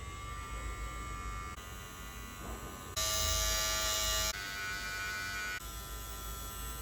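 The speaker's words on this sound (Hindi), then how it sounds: "ये ट्रिमर इन 2 हेड्स के साथ सच में बहुत साइलेंट है" A budget full body trimmer with magnetic heads runs with a steady electric buzz and hum, its pitch and loudness stepping up and down in distinct stages as it is handled, fairly quiet overall.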